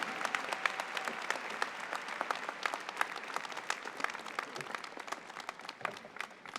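A crowd applauds at the Adelphi undergraduate commencement ceremony in 2024, with dense, steady clapping and crisp individual claps standing out, a faint murmur beneath, sustained and fairly loud throughout.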